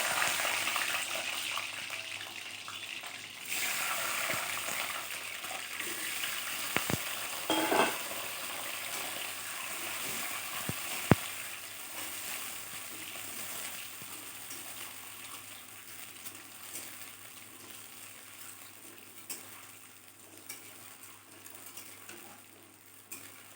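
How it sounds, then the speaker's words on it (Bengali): Boiled eggs fry gently in oil left from frying potatoes for an egg do-pyaza, giving a long, even hiss of sizzling with a few faint clicks of stirring, slowly easing in loudness. "এবার ওই একই তেলে আমি ডিমগুলোকে একটু হালকা করে ভেজে নেব"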